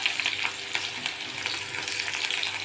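Potato and onion with cumin sizzle and crackle steadily in hot oil, a dense close frying hiss with faint stirring scrapes and small pops throughout.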